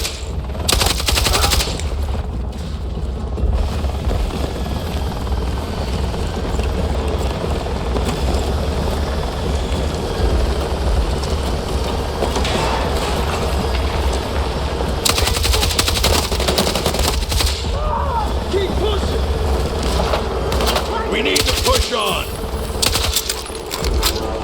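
Sentry gun fire in the video game Battlefield 6: sustained rapid automatic bursts, loud and dense, layered with battle noise and occasional voices throughout.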